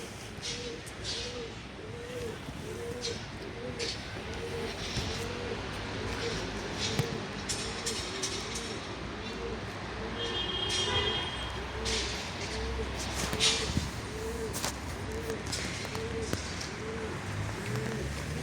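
Pigeons coo repeatedly in a steady low rhythm, with occasional chirps and faint background noise throughout.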